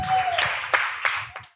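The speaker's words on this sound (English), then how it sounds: "Let's receive with another warm applause to Sarah Solstice," A few scattered claps ring out from an audience welcoming a panelist at a psychedelics panel, brief and sparse, closing out amplified talk that fades at the end.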